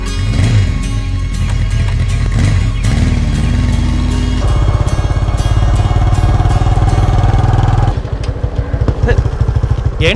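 A motorcycle engine roars close and loud, its revs climbing and falling in a throaty pulsing drone before a choppy idle, with voices in the background.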